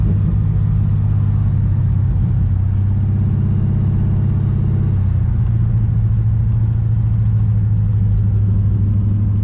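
A 1968 Dodge Charger with a swapped 5.7 Hemi, running in limp mode, drives along with a loud, steady low engine rumble and drone heard from inside the car, a slight shift in tone midway, no talking.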